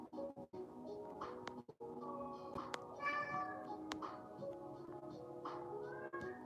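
A talking cat meows repeatedly over several seconds, its drawn-out, voice-like calls close and fairly loud against a low background murmur.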